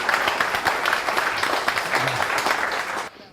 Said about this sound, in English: A round of applause to Barry.